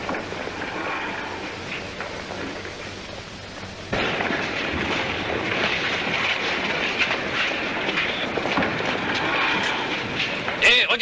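A vintage airplane flies in overhead, a loud droning engine roar that swells abruptly and holds steady, with a rattling, clattering texture and people talking beneath it.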